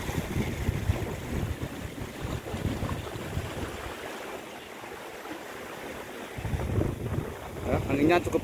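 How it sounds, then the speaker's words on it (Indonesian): Strong wind blowing across an open outdoor plot planted with sengon trees, a steady loud rushing that dips briefly midway and surges back, with faint talk beneath. "anginnya cukup kenceng, udaranya seger, sejuk ya"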